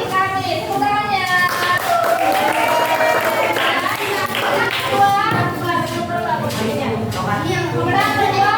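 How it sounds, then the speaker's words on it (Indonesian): Classroom group of pupils clapping for the winning team during a school lesson, rhythmic clapping mixed with children's excited voices and crowd chatter, lively and continuous. "Pemenang pertama kelompok hari Kamis. Tepuk tangannya"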